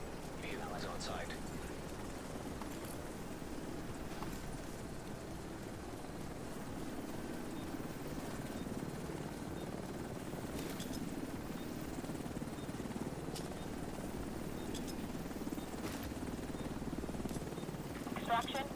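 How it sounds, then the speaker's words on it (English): A video game helicopter from The Division 2 arrives on site for an extraction, giving a faint steady rotor drone that runs throughout with soft scattered game effects layered over it. "Chopper on site."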